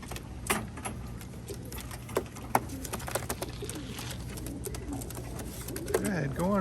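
Racing pigeons, cock birds just back in the loft after a race, cooing in soft repeated bursts amid rustling and clicking loft noises, with a louder cooing call close by near the end.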